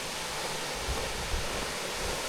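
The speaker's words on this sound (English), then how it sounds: "I can already hear the sound of the waterfall." Taranaki Falls in Tongariro National Park, a steady broadband rush of falling water heard from a distance along a green hiking track, faint and continuous with a few soft low thumps and no talking.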